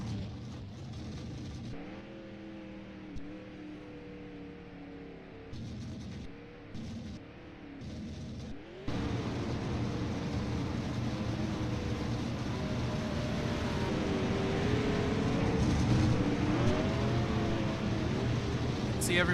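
Race cars drive around the Long Beach track in a racing video game. Engine drone is faint under talk at first, then a louder, continuous roar of several cars revving and accelerating takes over.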